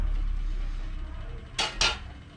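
A pot lid is set down on a pot while Thai spicy pork-rib noodle curry cooks, giving two quick metallic clanks close together, loud against a quiet kitchen background.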